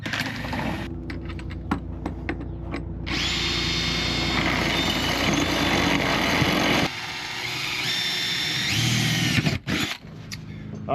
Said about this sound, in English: We're going to take the brackets off, drill our holes,